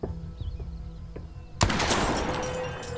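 A single sharp, loud gunshot at a bottle target in the video game The Quarry cuts through a quiet background, its blast ringing and echoing away over the following seconds.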